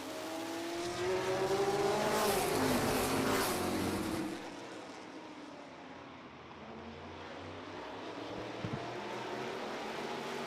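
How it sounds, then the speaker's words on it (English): Race cars on an oval track, likely a short-track heat race, roar past close and loud with rising engine revs, then fade into a steadier, more distant drone of engines circling the corner. "Phil Cox goes down into 3 and 4"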